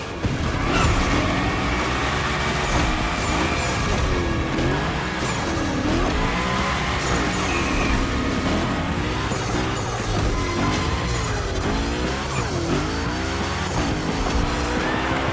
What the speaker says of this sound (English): we're gonna rough up the Hoonicorn a bit. We're focusing on Gymkhana essentials, big slides and precision.